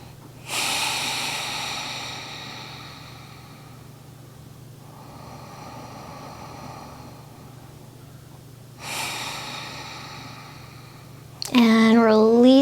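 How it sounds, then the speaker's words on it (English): Three slow, deep breaths, heard as long airy exhalations close to the mic during a full-body joint warm-up stretch, spaced a few seconds apart, with a voice starting to speak right at the end. "Let's take a couple breaths into this one."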